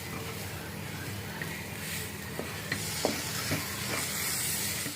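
Ginger garlic paste frying in hot oil for a Konkani soya chunk curry, a steady close sizzle and hiss with a few soft stirring clicks.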